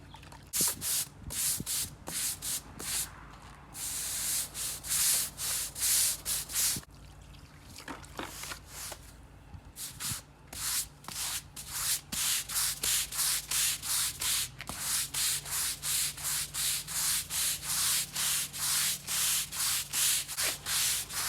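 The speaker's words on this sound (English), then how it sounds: "we're gonna come back and scrub it with a broom" A broom scrubs a bleach-and-detergent-soaked oil stain on a concrete driveway in steady, rhythmic back-and-forth strokes, close and crisp, with a brief pause partway through. No one speaks.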